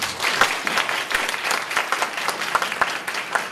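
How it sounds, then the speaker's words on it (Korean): At a university lecture hall special talk, the audience claps in a lively, sustained round. Dense overlapping claps with crisp individual hits run evenly for several seconds, close and clear. "박수 한번 치시면"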